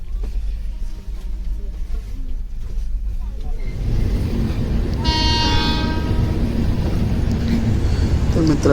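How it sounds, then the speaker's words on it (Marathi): A train leaves Mumbai for Chiplun in a 3E AC coach, its low rumble building from quiet to a steady loud roll, with a horn sounding near the middle and voices talking throughout. "आणि आज ट्रेन जी आहे ती वेळेवरती सुटली, म्हणजे 6:25ला."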